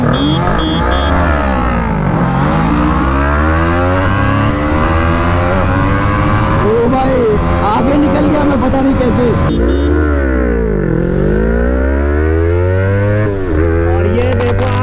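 BMW G310RR and Yamaha YZF R3 motorcycles racing, engines accelerating loudly through repeated rising pitch sweeps and gear shifts, close and continuous for about fifteen seconds.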